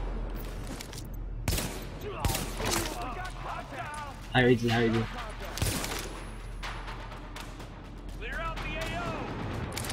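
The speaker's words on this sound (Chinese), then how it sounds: "为什么听到开枪声啊？" Rapid bursts of gunfire from the video game Tom Clancy's The Division crack out in clusters, mixed with in-game effects, while someone talks over them.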